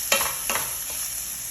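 Liver fries in a pan as it is stirred, two quick scraping strokes over a bright constant sizzle, close and fairly loud, with no voices.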